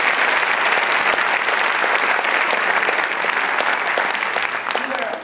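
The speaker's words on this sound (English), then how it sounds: "We'll give them another round of applause." A hall audience at an eighth grade parent night gives a sustained round of applause, a dense, loud wash of many hands clapping that holds steady for several seconds before tapering slightly at the end.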